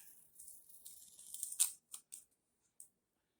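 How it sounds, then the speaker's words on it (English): Tape peeled carefully off a freshly painted 1964 Johnson 3hp outboard motor while a decal is positioned: a close, crackly ripping that swells, then breaks into a few short tearing bursts before stopping. "I press down one end and carefully remove my tape."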